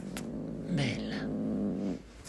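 Unsettled female cat in a rescue setting lets out a short low growl and complaining moan, close and fairly quiet, with a brief higher cry at the end.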